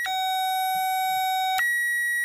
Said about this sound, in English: Then that beeps, and just send it some power.